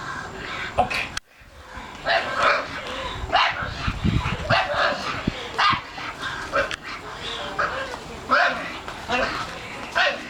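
Bull Terrier barking on command indoors, a series of short sharp barks and yips spread across the clip, close and fairly loud, with a person's voice in the background between them.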